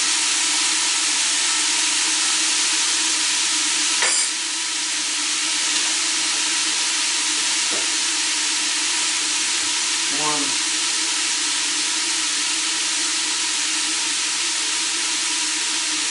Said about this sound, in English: I've got this sauteing though. It's up pretty high right now.